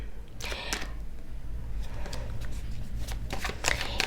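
Tarot cards are shuffled close up for a clarifier reading, with a few quick riffling bursts and soft card taps against a low steady hum.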